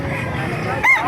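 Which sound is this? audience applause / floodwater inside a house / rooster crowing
rooster crowing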